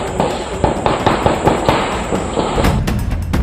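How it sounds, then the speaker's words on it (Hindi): A gunfire exchange between police and Naxalites in the forest of the Lugu hills, Bokaro district, Jharkhand, at dawn: an irregular run of sharp cracks and pops over a continuous noisy background. "ये किसी दिवाली में छोड़े जाने वाले पटाखों की आवाज नहीं, बल्कि नक्सलियों और पुलिस के बीच चल रही गोलियों की तड़तड़ाहट वाली आवाज है।"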